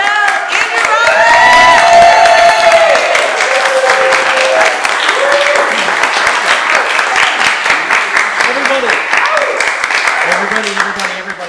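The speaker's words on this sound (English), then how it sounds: "keep that round of applause going" A live show audience applauds and cheers loudly for a performer, with dense sustained clapping, whoops and shouts filling the room and scattered voices calling out over the crowd.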